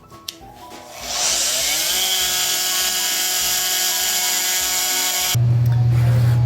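A multi-tool cuts an inside profile in polycarbonate sheet for a homemade LED ball drop, a sustained high buzzing whine that starts up after a tap, runs steadily, then shifts to a lower harsh drone.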